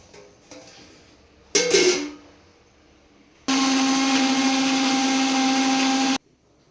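A mixer grinder jar blends cooled, boiled tomatoes into a puree in a single loud, steady burst of motor whirring lasting a few seconds, after a brief clatter and handling noise.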